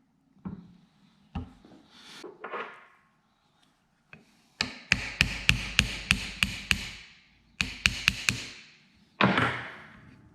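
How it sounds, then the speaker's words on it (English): Sharp hammer taps on a metal part of a Christen drill grinder, some single and some in quick bursts of several strikes, ringing briefly, with quiet gaps between. "I just kind of put my hammer in here and then tap this side to get it out."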